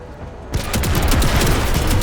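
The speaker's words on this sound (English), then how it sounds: "Do I come here and just blast these guys with a laser?" Rapid weapon fire from a laser in the tactical video game Menace starts abruptly and continues as a dense, steady barrage of crackling shots, loud and close, with no talking over it.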